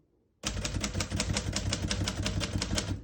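Rapid, steady key strikes on a 1939 Royal Arrow portable typewriter, each clack sharp and close, starting abruptly after a brief quiet moment and continuing in an even run with no talking.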